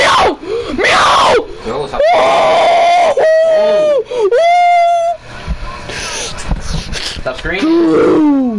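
A person screams and wails loudly at close range, with sustained high-pitched vocal cries and groans broken by short gaps, during a Minecraft game session.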